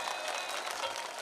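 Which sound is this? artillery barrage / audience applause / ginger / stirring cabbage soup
audience applause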